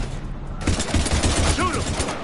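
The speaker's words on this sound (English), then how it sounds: "we're taking heavy fire" Heavy gunfire from the sci-fi video game Mass Effect 3 during an alien invasion, a dense rattle of rapid shots starting abruptly and continuing with a voice faintly underneath.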